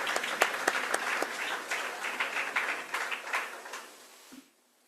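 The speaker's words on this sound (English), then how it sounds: "shall we give them again a big round of applause for their wonderful performance?" Audience applause after a performance at an engineers' day event, with sharp individual claps standing out in a lively round that gradually thins and fades to silence near the end.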